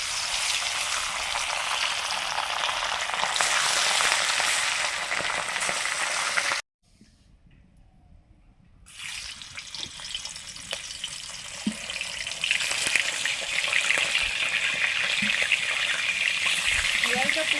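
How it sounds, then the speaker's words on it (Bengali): Perch fish frying in mustard oil give off a steady, close, hissing sizzle that drops out for a couple of seconds midway, then returns strongly and continues to the end. "সর্ষের তেল মাছগুলো ভাজবো প্রথমে পার্সে মাছগুলো ভেজে নিচ্ছি"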